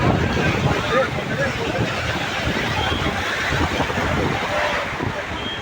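Rough sea surf surging onto Digha beach, a continuous loud roar of waves mixed with heavy wind buffeting the microphone, with no clear breaks.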